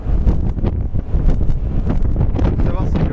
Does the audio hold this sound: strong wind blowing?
yes